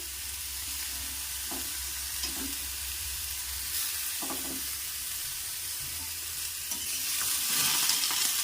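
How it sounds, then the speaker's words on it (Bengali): Tomatoes sizzle steadily in a hot pan with greens while being stirred, scraping clicks and small bursts recurring under the continuous frying hiss; no voices. "চলুন এরপর আমরা টমেটোটা এর মধ্যে দিয়ে দিচ্ছি।"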